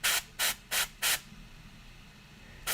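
An airbrush spraying ink onto a miniature, four short even bursts of hissing spray in a quick regular rhythm, then a pause and a fifth burst starting at the end.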